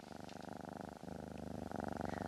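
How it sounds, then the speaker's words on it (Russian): Steady, rough, loud purring from a contented domestic cat, close up, with a regular rhythmic pulsing that continues throughout and grows slightly louder toward the end. "Грубоватое громкое урчание означает, что кошке очень хорошо."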